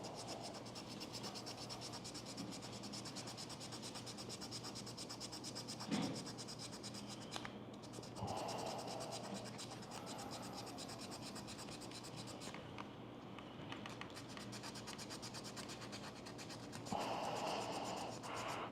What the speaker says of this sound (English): we can try using a 320 grit sandpaper